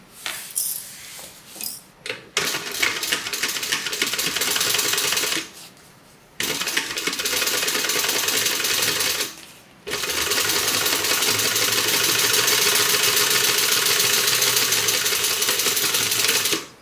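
Sewing machine top stitching a crossbody bag, loud rapid mechanical whirring in long runs with a few short pauses and some handling clicks at the start.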